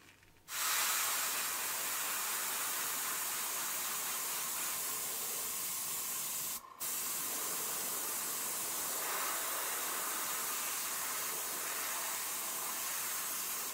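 A steady aerosol spray paint hisses almost continuously onto El Camino wheel rims for over ten seconds, with one brief pause partway through, close and fairly loud.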